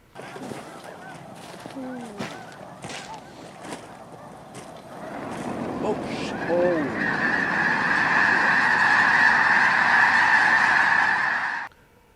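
A large flock of snow geese and specklebelly geese honking over sheetwater, scattered calls at first swelling into a loud, dense, continuous clamor before cutting off abruptly.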